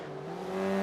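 A BMW accelerates hard past a Honda Civic in a Forza 5 race, its engine a steady, rising drone that builds in loudness toward the end, with no tire squeal standing out.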